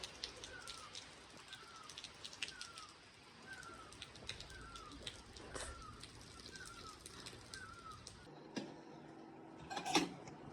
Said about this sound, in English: It was bright sunny day in the morning and now it's raining.